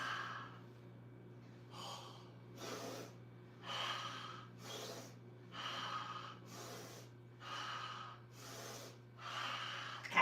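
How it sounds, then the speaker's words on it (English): Rhythmic breath work during a stretching session: about eight slow, even breaths, audible inhales and exhales cycling close to the mic over a low steady hum, no talking. "It's a little breath work."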